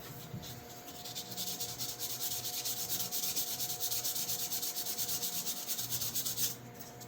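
Hand sanding with foam-backed 500 to 600 grit abrasive during a hand tool restoration gives steady, rhythmic rubbing strokes, close and fairly quiet, with no voices.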